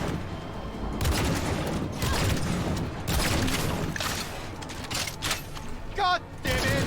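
Tech pistol fire in Cyberpunk 2077 comes as a series of loud, heavy shots in uneven bursts with mechanical clanks between, while someone speaks over it.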